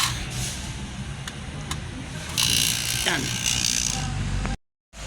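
A vacuum pump evacuates the refrigerant lines of a floor-mounted 3-ton air-conditioning unit, giving a loud, steady mechanical drone throughout. Someone speaks briefly over it, and the sound cuts out for a moment near the end.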